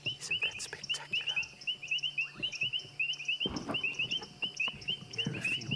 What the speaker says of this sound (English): You can hear a few bubbling casinas, which is that popping sound, and then that metallic sound is the painted reed frog